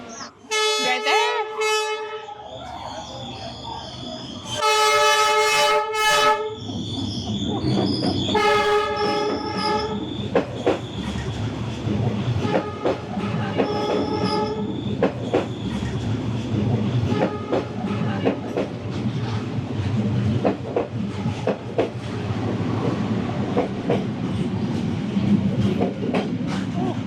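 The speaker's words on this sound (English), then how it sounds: "The trains are coming." A train blasts its horn several times up close, then rumbles past loudly along a narrow lived-in street in Hanoi's Old Quarter, with steady clattering wheels and squealing metal for a long stretch.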